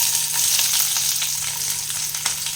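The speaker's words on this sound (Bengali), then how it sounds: "ওই যেটুকু তেল ছিল আমি সেইটাতেই মশলাটা ভেজে নিব" Spice paste (masala) fries in a small amount of leftover oil, giving a dense, steady sizzle close up with faint occasional stirring.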